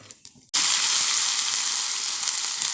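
Curry leaves on their stems drop into hot oil for a Kerala thoran, setting off a sudden loud sizzle that starts sharply and then holds as a dense, steady crackling hiss close by.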